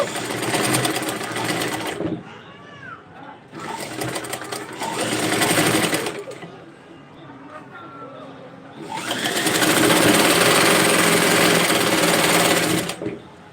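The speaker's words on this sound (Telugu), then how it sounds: "1 ఇంచ్ దగ్గర నుంచి మనము స్టిచ్చింగ్ అయితే వేసుకుంటూ రావాలండి." A sewing machine stitching a dress runs in loud, steady bursts of rapid whirring stitches, stopping and starting several times, with someone speaking during the pauses.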